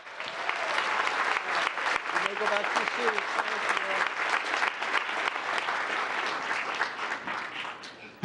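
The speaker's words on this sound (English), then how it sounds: "Please join me in giving Group 1 another big round of applause" Sustained applause at a town council meeting for a group of students, steady dense clapping from a seated audience throughout, while a voice briefly speaks over it.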